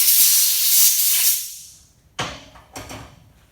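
Compressed air hisses loudly for over a second while blowing caps off the injector pipes of a Toyota Hilux Vigo diesel, fading out before two sharp, close pops.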